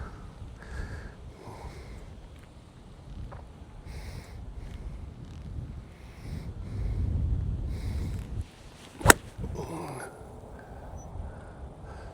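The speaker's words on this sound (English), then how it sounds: "I'm gonna hit my 5-wood." A 5-wood golf shot topped into the ground on a windy course, one sharp close strike of the club cutting through gusting wind noise and someone speaking nearby.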